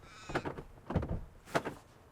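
A car door opened from inside with a push button, giving a few short mechanical clicks and thunks spaced over two seconds, fairly close and moderately loud, with no talk.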